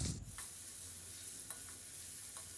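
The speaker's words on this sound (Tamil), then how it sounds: "வெங்காயம் நல்லா வதங்கட்டுங்க." Chopped onions fry with fennel seeds in a pan, a steady close sizzle broken by a few scraping strokes of a spoon stirring them.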